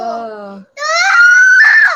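A young child lets out a high, strained scream, a short wail followed by a brief pause and a longer, rising shriek, loud and close.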